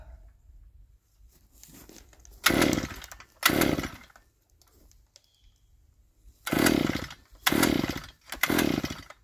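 A two-stroke engine tool sputters as it tries to start, with five loud, close bursts of engine noise coming in pairs and fading out between faint rustling.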